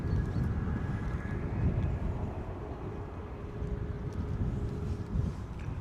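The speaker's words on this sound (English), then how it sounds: "you can tell that's a private jet" A private jet operated by Sundance Operations Limited departs Stansted for Guernsey, its engines giving a moderate, distant steady roar with a faint thin whine above.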